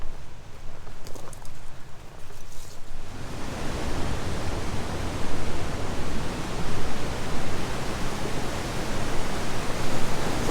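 Heavy rushing water of the Gibson River, a loud steady broadband roar that swells after a quieter opening few seconds and then holds constant, close and continuous with no voices.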